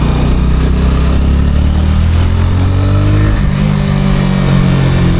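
A motorcycle engine revs loud and close on a Romanian road in heavy rain and traffic, a steady throaty drone that climbs in pitch as it accelerates, with no talking.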